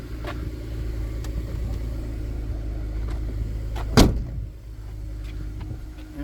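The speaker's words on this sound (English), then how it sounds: "Let's see if this thing will close." Power liftgate on a Lincoln MKT closing, a single loud solid thump as it latches, heard over a steady engine idle hum, close by.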